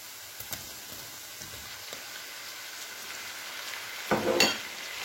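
Tomatoes tipped into onions frying in a pan, a soft steady sizzle with light scattered ticks, swelling into a brighter, louder crackle burst near the end as they hit the oil.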